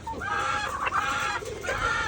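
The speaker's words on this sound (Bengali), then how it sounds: "আমার যে মুরগিগুলো আছে এগুলো কেমন মুরগি দেখেন" Chickens on a rooftop farm cluck and murmur close by in a busy, overlapping chorus, with no talking.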